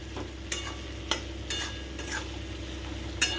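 Potato and pointed gourd curry being stir-fried in a pan, with a soft steady sizzle under several sharp scraping stirs of a spatula, close by, with no talking.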